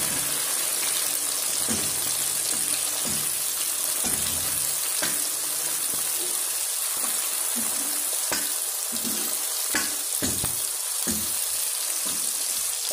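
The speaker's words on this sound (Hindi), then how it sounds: "टमाटर को भी जो है थोड़ा सा फ्राई कर लेंगे ताकि और भी नरम हो जाए" Tomatoes frying in a pan for egg bhurji, a steady close hiss and sizzle with intermittent soft clicks and scrapes of stirring, continuous for the whole stretch.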